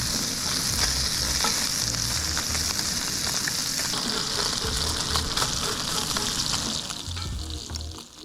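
Fish frying in grease in a hot cast iron pan at a lakeside camp, a dense, steady close sizzle with faint crackles and occasional stirring, fading slightly at the end.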